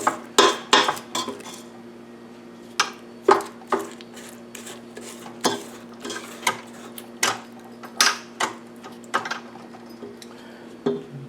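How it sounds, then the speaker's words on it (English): A spatula scrapes down a mixing bowl of cream cheese batter made with free-range egg yolks, giving a series of distinct knocks and scrapes against the bowl at an uneven, repeated rhythm. "I'll just scrape that down."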